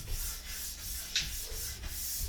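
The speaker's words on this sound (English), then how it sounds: "you can use a finishing brush" Finishing brush polishing wax on alpine skis, soft close brushing strokes in a steady back-and-forth rhythm with one slightly sharper scrape midway, quiet and alone.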